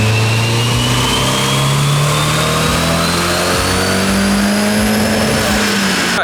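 A turbocharged Nissan Silvia SR20DE engine runs on a dyno, revving steadily upward to high RPM in one long, loud, rising pull; the engine note is close and continuous.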